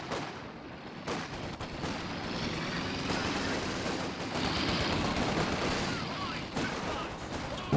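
Heavy weapons fire pounds continuously in a Company of Heroes 2 2v2 match: dense machine-gun and artillery-like bursts swell and fade, with a few sharp cracks, while commentary runs underneath.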